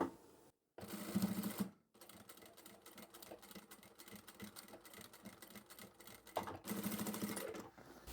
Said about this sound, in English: and just make that sit nice and straight across, and we'll sew over that a few times.